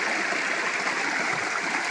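Steady rushing, bubbling water at the intake of a farm water system in Ninole, a continuous broadband wash of air bubbles and churning flow with no voices.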